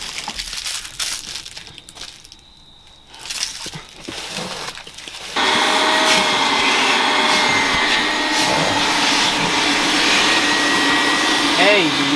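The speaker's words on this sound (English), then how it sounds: "So I'm just gonna pick up whatever I can and then just hit it with the vacuum" A vacuum cleaner works the floor inside a 2002 Subaru WRX bugeye, starting with quieter rustling and handling, then a loud steady suction roar that runs continuously from about five seconds to the end.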